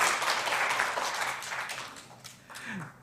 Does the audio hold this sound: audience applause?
yes